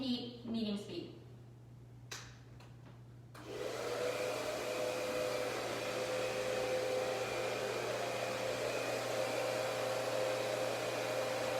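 A hair dryer runs steadily on medium heat and medium speed, a close, even whooshing roar with a faint whine, starting after a few seconds of clicks and knocks and then holding without a break.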